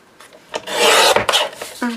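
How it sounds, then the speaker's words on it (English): A paper trimmer slices through a folded book page, a short close rasping scrape rising to a loud rough swipe and then tapering off, with no talk. "I'm going to get my trimmer. I'm going to cut off that bit."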